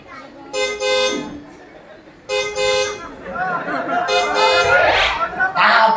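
Two long car horn blasts sound close by, separated by a pause, followed by busy road noise and more honking overlapping passing traffic.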